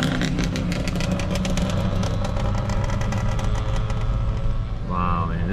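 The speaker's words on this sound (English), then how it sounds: "Look at that Banshee, that two-stroke light." Yamaha Banshee two-stroke motorcycle engine running at a street event, a steady loud buzzing drone with rev fluctuations, a brief higher whine near the end.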